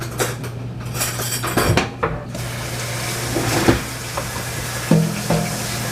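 Dishes and cutlery being rinsed at a kitchen sink after cooking mashed potatoes: running water with clinking, clattering metal and crockery knocks scattered throughout, fairly close.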